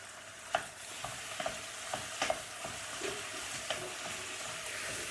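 Boneless chicken thigh fries in a pan with onions, peppers and carrots, making a steady sizzle broken by occasional scraping clicks of stirring.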